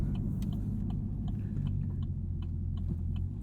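A sports car launching from a standstill, its engine revving hard as the clutch engages, a loud steady low rumble with light rattling clicks over it, close and continuous throughout.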